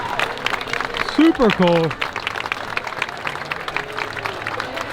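A crowd applauds and cheers at Mickey and Minnie's Runaway Railway at Walt Disney World, a steady wash of clapping that continues throughout while someone talks briefly over it.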